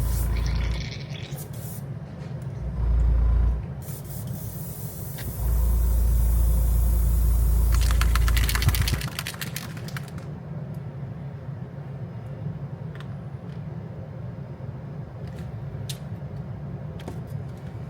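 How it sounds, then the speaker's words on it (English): Two hissing bursts of spray paint onto a fishing lure, one short and one longer lasting a few seconds, against quiet background noise. "I'm just going to spray some on the back here"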